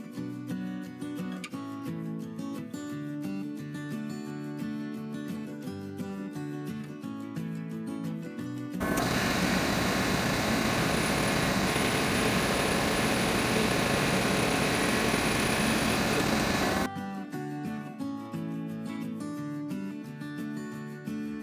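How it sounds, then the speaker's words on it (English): A lathe trims a steel exhaust pipe for a 420 HEMI engine swap into a lawnmower-powered car, making a loud, steady, harsh roar for about eight seconds between stretches of music. "Just needs a little bit of trimming on the lathe"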